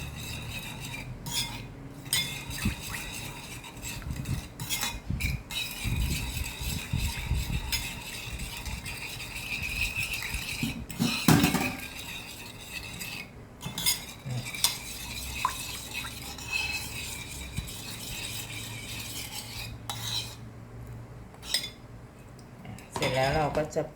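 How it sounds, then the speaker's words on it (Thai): A spoon clinks and scrapes against a bowl while stirring a seasoning sauce for a stir-fried rice noodle dish, with irregular metallic taps and swirls and brief bits of talk over it. "อ่ะเสร็จแล้วเราก็ คนน้ำปรุงให้เข้ากันนะเพื่อน"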